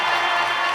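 A lively live crowd at an interview roars and cheers in a steady, dense wash of voices for under a second, loud and close.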